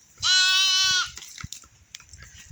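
A sheep or newborn lamb lets out one loud, close, sustained bleat on a farm near Antalya, followed by quiet rustling and small movements.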